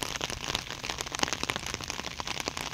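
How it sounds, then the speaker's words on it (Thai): Light rain falls steadily at a flooded construction site where a water-retaining embankment near the pumping point has burst, giving a dense, even patter of drops with no talk over it. "ท่ามกลางสายฝนโปรยปรายครับ"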